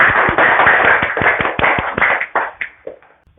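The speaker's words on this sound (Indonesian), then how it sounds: "Ya, tepuk tangan untuk kita semua" A classroom of children claps hands together in a lively burst of sharp, overlapping claps that gradually thin out and slow, ending in a few scattered final claps.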